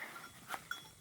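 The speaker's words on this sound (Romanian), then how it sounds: "Obița mică." A small sheep bleats faintly in a short, distant call from a farm setting, brief and quiet against light background noise.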